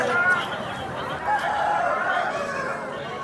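A rooster crows at a busy poultry market, its drawn-out call rising and falling across a few seconds amid crowd chatter and background noise.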